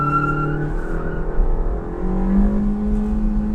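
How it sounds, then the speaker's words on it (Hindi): A Maruti Suzuki Swift BS6 petrol engine revs up and falls back twice, its pitch sweeping high then dropping, loud and close with no talking. "Now revving the engine."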